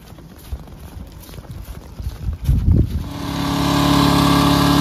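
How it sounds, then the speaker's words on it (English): A Toro Power Clear 180 snow blower with a 4-cycle 87cc engine clearing slushy snow. Thuds and scraping come first, then the engine settles into a steady, loud, buzzing drone that holds to the end. "I'm helping my neighbor use her Toro Power Clear 180, 4-cycle, 87cc."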